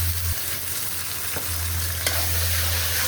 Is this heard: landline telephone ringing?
no